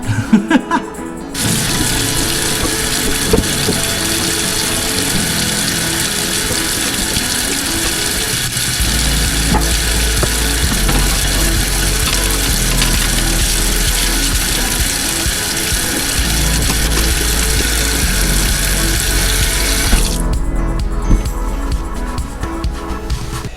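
An Abu Garcia Vengeance baitcasting rod, recovered after sinking, is scrubbed with a sponge under a running tap in a sink, with loud, steady rushing water that starts and stops cleanly and faint rubbing beneath it.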